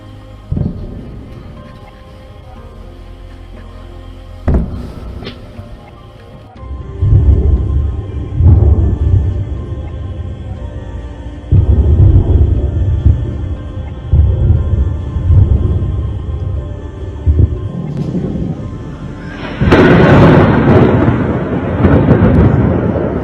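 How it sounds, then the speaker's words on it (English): Deep, rumbling booms of war explosions in Kyiv, Ukraine, roll in repeatedly, muffled and distant, swelling into a heavy sustained roar near the end. "sounds of war could be heard in Ukraine's capital"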